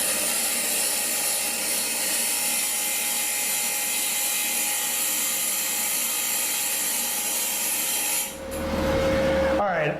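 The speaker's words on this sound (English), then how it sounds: "We're ready to grind one more time." A tungsten electrode is ground on a grinder, giving a steady, continuous high whine for about eight seconds before the sound shifts and cuts off.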